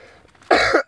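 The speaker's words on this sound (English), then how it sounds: "This coughing is because of everybody making me laugh." A person coughs in harsh bursts, a single loud hack followed by a short second cough, close to the mic after a quiet moment.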